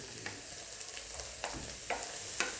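Potatoes frying in a pan for an Assamese fish curry give a quiet, steady sizzle. A few soft clinks and stirring taps come at irregular intervals.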